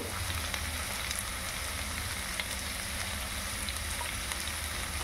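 Bori lentil dumplings fry in hot oil in a pan, giving a steady, faint, continuous sizzle with fine crackles and no talking.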